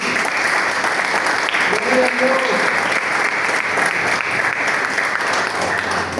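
Church congregation claps loudly at a Sunday service, a dense, steady wash of applause that fills the whole span at close range.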